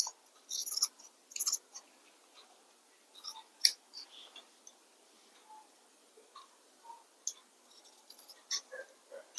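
Scissors cutting blouse fabric give a series of light, crisp snips and clicks at close range, coming in irregular bursts with quiet gaps between them.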